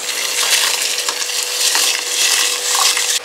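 Uncooked rice is tipped into a pot of Kerala-style chicken biryani, making a close, grainy, continuous rushing patter that swells and fades for a few seconds before stopping abruptly.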